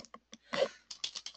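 Keystrokes from a computer keyboard as a code comment is typed, a short quick burst of close, soft clicks heard alone.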